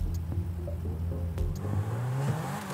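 A car engine in the GTA V FiveM video game idles with a steady low drone and then rises in pitch as it revs, with no voices.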